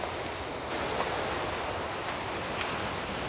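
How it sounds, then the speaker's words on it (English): Waves breaking at high tide on Freshwater West beach, a steady broad roar of surf with wind buffeting the microphone, continuous and fairly loud with no voices. "I'm standing here on Freshwater West Beach. It's a nice high tide"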